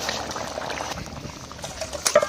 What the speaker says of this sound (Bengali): মাছটা দিয়ে একটু ফুটিয়ে নেবো।